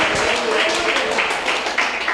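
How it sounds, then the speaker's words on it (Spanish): A church congregation claps together in a steady, rapid patter of many hands that fills the room, with a voice faintly audible beneath it. "Va a aplaudir, hágalo de todo corazón."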